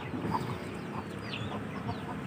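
A chicken clucks in short, scattered bursts while chasing a duck outdoors, the calls fairly close against a busy background with no talk.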